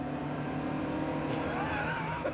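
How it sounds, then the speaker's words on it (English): A quick, heavily modified car's engine in a driving game droning steadily with a flat, sluggish pull before rising in pitch toward the end, a lagging turbo slowly spooling up. "There's a fair bit of period turbo lag,"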